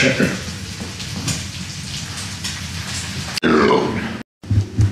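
Bacon sizzles and crackles steadily in a hot pan, with a few low grunting vocal sounds over it and a brief silent break near the end.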